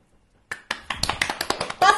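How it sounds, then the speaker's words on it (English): Hands clap in a quick, uneven series of about eight sharp, close claps after a short silence, with a voice briefly joining at the end. "That's a lot of claps."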